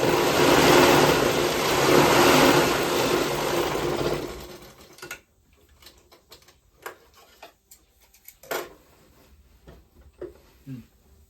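A sewing machine runs loud and steady for about four seconds while stitching a layered godhadi quilt made from saris, then stops, leaving scattered small clicks and handling sounds.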